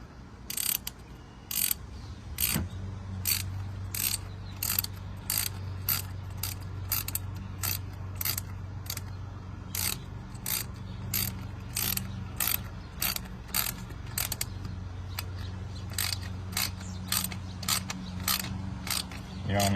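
Hose clamps being tightened on the intake of a 2021 MK7 VW GLI, with a steady run of quick ratcheting clicks repeating at an even pace close by throughout, over a low hum.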